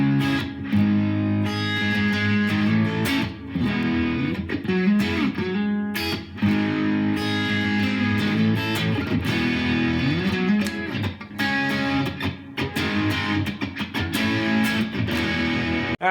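Distorted electric guitar music played through a miked tube guitar amplifier, with loud, steady chords and riffs, brief gaps between phrases, and no talk.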